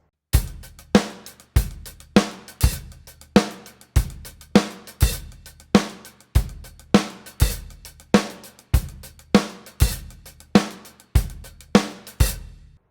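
A funk groove on a drum kit with quick hi-hat barks, the hi-hat briefly opened and closed, plays in a steady, driving loop of strong kick and snare accents. It is loud and close, with no voices.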